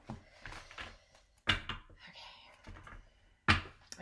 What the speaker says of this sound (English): Bear with me as I shuffle.